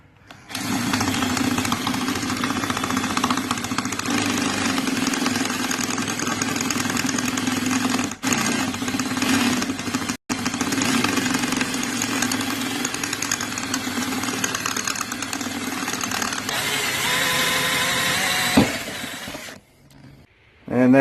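A power drill bores through metal on an old bus being turned into a tiny home, giving a loud, sustained grinding whine. The pitch shifts as the speed changes, and it cuts out briefly twice before it stops near the end.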